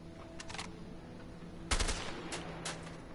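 Gunfire in the co-op action video game A Way Out: a few short bursts of shots, the loudest sharp volley landing midway, with quieter shots before and after over a steady game background.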